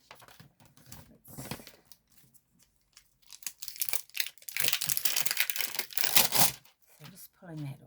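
Paper being peeled and pulled off during handmade card making, with crinkling and tearing rustles in bursts, louder toward the end, close to the microphone, interspersed with a few quiet gaps.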